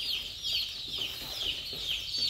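Baby chicks, brown laying hens, cheeping in a close, continuous chorus of high, thin peeps overlapping with one another.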